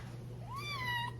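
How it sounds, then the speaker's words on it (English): A cat gives a single close, rising-then-falling meow lasting about half a second over a steady low hum in a quiet room. "She is from the cat distribution system, left on my front porch."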